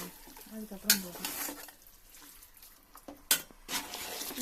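Chicken for biryani sautés in a pan, a soft ongoing sizzle broken by two sharp metallic spoon clinks against the pan and short bursts of stirring, close and fairly quiet without speech.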